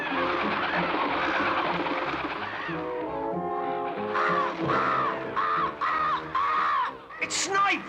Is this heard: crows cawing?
yes